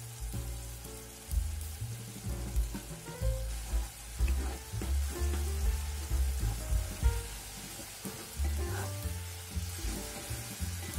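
Cabbage and glass noodles stir-frying in a wok, loud continuous sizzling with scraping and stirring clatter rising and falling close up, no voices.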